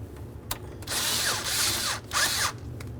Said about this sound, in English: We'll disconnect the inlet tube from that throttle body by loosening our clamp.